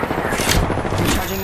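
Gunfire strikes the player in a first-person video game, a dense, crackling burst of rapid shots lasting about a second and a half at steady, fairly loud volume, with faint game voice cues mixed in.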